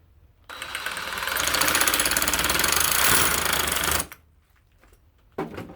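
A coarse, rough-toothed saw blade rasps rapidly through the plastic body of a brass-pinned female plug end held in a bench vise, a loud buzzing stretch of strokes lasting several seconds before stopping, followed by a short burst.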